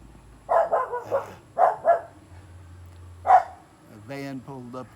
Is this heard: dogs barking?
yes